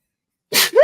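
A single sharp, close sneeze bursts out after silence, followed immediately by a short voiced exhale.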